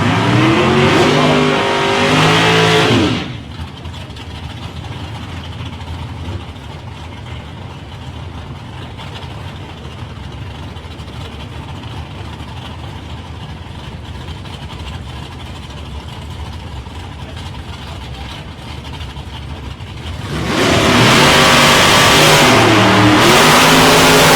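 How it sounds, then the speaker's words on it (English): Drag racing cars at a qualifying event, a loud engine roar at the start that cuts away, a long stretch of distant idling and crowd ambience, then another pair roaring off the line near the end, revving hard. "Stars launch off the line, ladies and gentlemen, and a throttle stop comes in."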